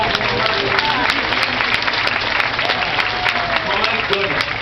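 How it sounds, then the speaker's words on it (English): Audience applause at a bear show at Clark's Trading Post, a continuous wash of outdoor crowd clapping with scattered sharper claps and background crowd noise and voices mixed in. "a little more applause"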